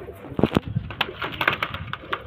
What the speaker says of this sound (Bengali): ছোট্ট খাঁচার মধ্যে দিয়েছি যে নর পায়রাটা